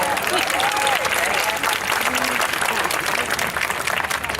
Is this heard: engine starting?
no